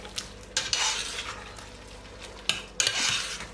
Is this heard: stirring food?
yes